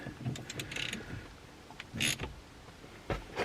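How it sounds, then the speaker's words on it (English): A ratchet snugging screws into plastic lower trim on a BMW during a steering angle sensor replacement: faint, close clicking and brief mechanical rattles in short bursts, with quiet gaps between. "I'm just going to give them a bit of a snug up with the ratchet."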